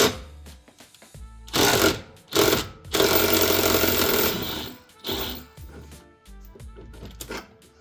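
A rear shock absorber bolt is removed from an Alfa Romeo Giulietta's suspension with a power tool, which rattles in several bursts broken by short pauses and some clinking.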